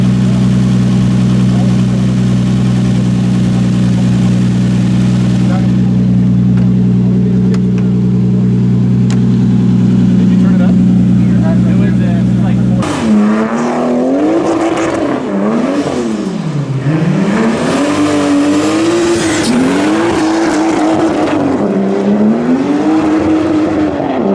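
Toyota 2JZ-engined Nissan 240SX on a dyno, first a loud steady droning hum, then a sharp shift into wavering revving pitch that rises and falls as the engine is run up, loud and continuous.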